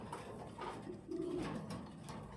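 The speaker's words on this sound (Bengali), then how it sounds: "এই দেখেন ফুল বেডিংয়ে কবুতর" Pigeons at a pigeon farm give soft, low cooing calls, quiet and fairly close, repeating in a short murmuring sequence.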